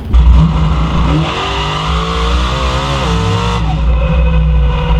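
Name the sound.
nitrous drag race car making a pass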